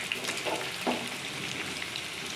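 Chepa shutki, dried fish, fries over medium heat in a pan with a soft, steady hiss and a couple of faint clinks, close but quiet, with no talking.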